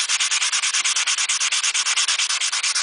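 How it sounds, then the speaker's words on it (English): Rapid rhythmic rasping strokes of sandpaper on stainless steel trim, sanding out file marks, loud and close, repeating evenly about ten times a second without pause. "you're just filing out, sanding out all the file marks"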